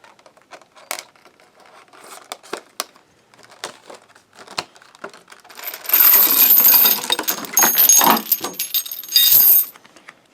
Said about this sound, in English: I'm just gonna open this up real quick. It's in that blister packaging that everyone loves.